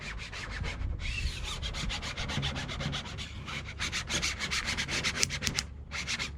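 A scraper is rubbed repeatedly over vinyl decal artwork on a 2009 Hemi 1500 truck, giving quick rhythmic scratchy strokes in bursts, close and moderately quiet, with no voices.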